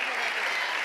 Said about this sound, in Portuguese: Mais um forte aplauso ao Senhor.